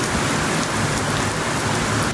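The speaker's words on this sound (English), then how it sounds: "This is the first good rain that I've had since I moved into this house" Heavy rain pouring down hard outside a house and pooling in one spot, a loud dense continuous roar of falling water close by, with no voices.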